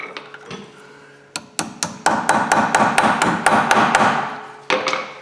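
Hammer striking a screw extractor into a broken piece on a Ford Ranger, a few scattered taps followed by a rapid run of sharp metallic blows, close and loud, then a short final burst.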